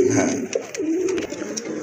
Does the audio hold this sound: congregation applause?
no